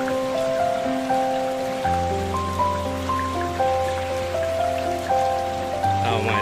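Overflowing water running through a forest makes a steady, hissing rush like heavy rain on surfaces, partly covered by sustained musical notes that play over it for the whole stretch.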